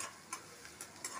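Four red chillies fry in a pan for a pizza sauce, a soft, faint sizzle broken by a few light, evenly spaced ticks and crackles in a short burst.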